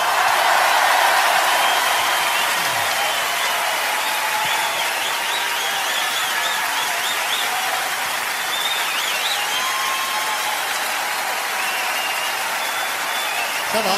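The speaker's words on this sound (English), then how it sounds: "Applaudissez s'il vous plaît mes chanteurs." Steady, dense clapping from a concert audience fills the space for the whole stretch, applauding the singers at an even level, with a faint crowd murmur mixed in.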